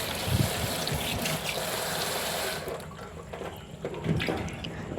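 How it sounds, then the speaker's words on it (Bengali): Cold water gushes from a tap over boiled chow mein noodles, a continuous splashing rush that softens and thins partway through, with a brief louder splash near the end. "এবার নামিয়ে নিয়ে একটু ঠান্ডা জল দিয়ে দিলাম"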